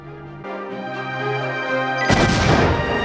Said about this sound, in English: Jeez, exploding boxes